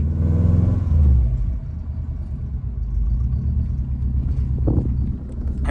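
An STI-swapped Subaru Forester with a forged engine on its first drive gives a deep, steady engine rumble that swells briefly near the start, then settles into a continuous low drone, close and loud.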